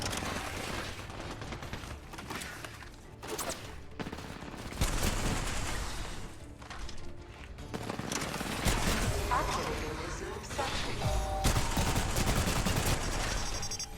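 Automatic weapon fire in the Apex Legends battle royale game, with bursts of rapid gunshots and mechanical clatter running through most of the stretch, fairly loud and dense, while players talk over it.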